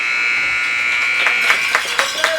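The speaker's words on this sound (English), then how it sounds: "As the buzzer goes to end the second frame" A long steady electronic buzzer sounds in an ice hockey arena to end the second period of a Moncton Thunderbirds versus Western Kings game, holding for a couple of seconds while faint crowd noise and knocks rise beneath it.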